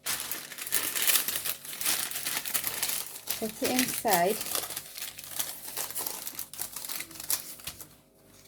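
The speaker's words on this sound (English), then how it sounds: "Then I'm going to get my parchment paper" Parchment paper crinkles and rustles as it is pressed into a pastry-lined dish for a cheese and onion pie, close and crisp, with a person talking over the handling.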